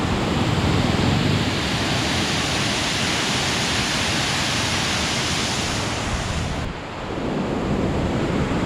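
Water rushes over a dam waterfall in Munnar, Kerala, a loud, continuous roaring wash that dips briefly near the end before resuming.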